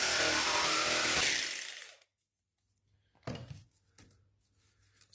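A power saw cuts across the grain of taped plywood in one loud burst of about two seconds, then goes quiet, and a few faint knocks and handling sounds follow.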